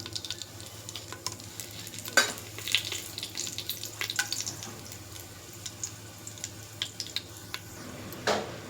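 Whole spices (star anise, cardamom, cloves, cinnamon and bay leaf) fry in oil for a vegetable meal maker biryani, a low steady sizzle with occasional sharp pops and scraping stirs, and no talk.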